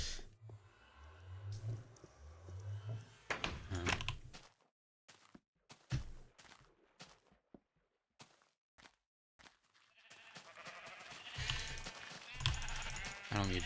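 Sheep bleating in the Minecraft video game, a few short bleats near the start followed by scattered clicks, brief gaps of silence and a busier stretch of game sounds toward the end.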